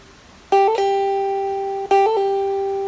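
Two plucked notes on a Thai pin lute ring out one after another, each with a quick bend up, then sustain and slowly fade, close and clear.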